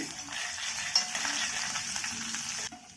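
Chana dal and urad dal fry in ghee over low heat, a constant close sizzle with light stirring and one small metallic tick, cutting off abruptly near the end.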